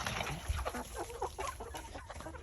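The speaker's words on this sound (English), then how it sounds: "more of the chickens just get around them" A flock of chickens clucks and murmurs around a water feeder, a close cluster of overlapping short clucks and squawks.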